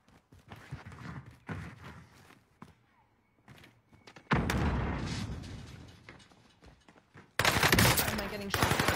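Gunfire in a shooter video game comes as bursts of loud, close shots and sustained volleys, with heavy salvos near the middle and end and softer scattered shots earlier.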